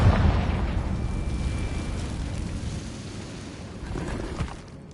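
Confringo blasting spell explosion in Hogwarts Legacy, a loud broad rumbling boom at the start that decays into a sustained low roar with debris over several seconds.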